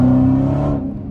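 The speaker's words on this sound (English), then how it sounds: "As long as your exhaust sound like this." A loud car exhaust revs in a short, deep burst, holding a steady throaty roar before easing off. No one speaks.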